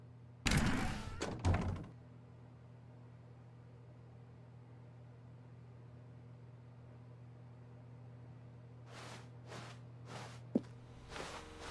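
Footsteps and a door in The Stanley Parable video game: a couple of close thunks near the start, then near-silence with a steady hum, and a few more soft footfalls and a knock near the end.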